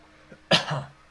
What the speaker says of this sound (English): Gotta remember not to cough towards the microphone